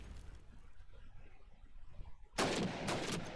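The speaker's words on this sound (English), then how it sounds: "Another nade coming in there." A grenade blast in Call of Duty: United Offensive during a competitive match, a sudden loud burst that rings out after a stretch of low rumbling game ambience, with a second crack trailing shortly after.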